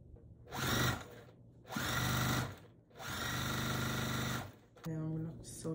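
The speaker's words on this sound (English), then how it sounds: "Then I'm gonna sew the last piece." A sewing machine stitches quilt block pieces in short bursts: three loud, close runs of rapid mechanical whirring separated by brief pauses, then a shorter final burst.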